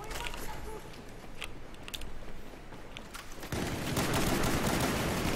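Pistol gunfire in the shooter game Battlefield 4, a few sharp shots among dense, continuous battle noise that grows louder and busier in the second half.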